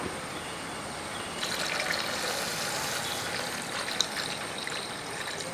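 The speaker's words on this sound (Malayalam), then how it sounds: "ഇനി നമുക്ക് കുറച്ച് വെള്ളം കൂടെ ഒഴിച്ചു കൊടുക്കും" Half a cup of water pours steadily into a fish curry pan, a rushing splash that begins after a quiet moment and continues at an even level.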